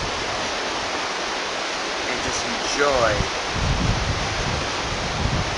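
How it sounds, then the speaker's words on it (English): A broad, steady rush of sea water past the Carnival Glory cruise ship fills the clip, loud and constant, while a voice briefly speaks over it partway through. "the refreshing sounds of the water as we sail away"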